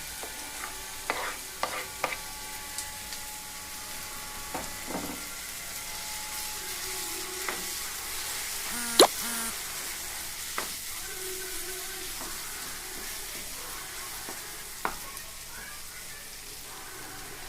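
Tomatoes are stirred into a mushroom gravy frying in a pan. A low steady sizzle runs throughout, broken by scattered clinks and scrapes of a utensil.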